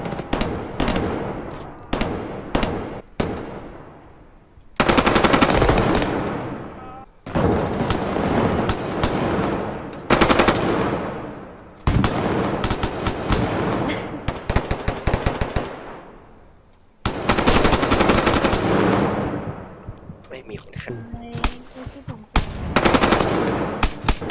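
Automatic AK rifle fire in the Roblox game Deadline, with loud sustained bursts and rapid rattling volleys that break off and start again across the clip, some with echoing tails, and no talk over them.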